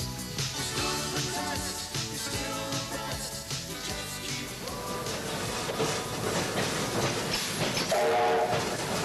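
A steam train rumbles past with clattering wheels and hissing, dense and steady throughout, joined by music with a sustained tone near the end.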